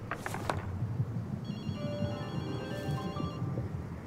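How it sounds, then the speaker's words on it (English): A telephone rings in the video game Ghostwire: Tokyo, a bright electronic ringing tone in repeated trills over a low ambient background, moderately faint. "I hear the phone."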